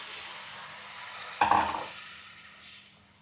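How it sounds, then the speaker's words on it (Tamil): Tamarind water poured into a pan of sizzling fish masala for sālai fish fry gives a sudden loud hiss and splash, then settles into a softer, fading sizzle. "அடுத்து அப்புறமா இந்த புளியை ஊற்றிடுவோம்"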